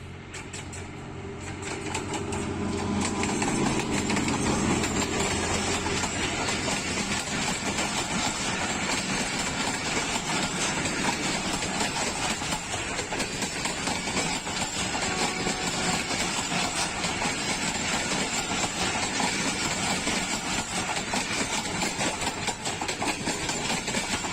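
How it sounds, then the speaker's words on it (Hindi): Awami Express passenger train on the Peshawar–Karachi route at Nur Junction, Pakistan Railways, rumbling steadily past with a continuous heavy engine drone and clattering rail noise, loud and unbroken throughout, with no talking. "ये थी पेशावर और कराची के दरमियान चलने वाली अवाम की अवामी एक्सप्रेस।"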